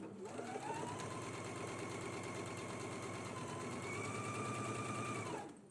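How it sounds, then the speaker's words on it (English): A sewing machine stitches the center back seam of a jumpsuit at a 5/8 inch seam allowance, running in a steady rapid whir for about five seconds before stopping, close and alone. "we can go ahead and stitch at a 5/8 of an inch seam allowance"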